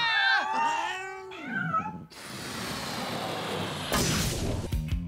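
Loud, wavering cat meows and yowls up close for a couple of seconds, then a burst of crashing noise and hissing.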